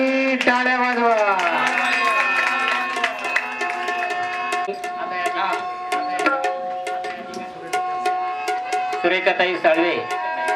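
An audience claps in a steady rhythm along with a devotional Marathi bhajan. The sharp, regular claps ring over sung melody and accompanying music.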